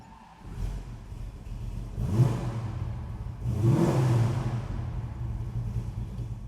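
A 1967 Ford Mustang restomod engine catches and revs up twice in quick succession, each throaty rise settling back into a low, rumbling idle nearby.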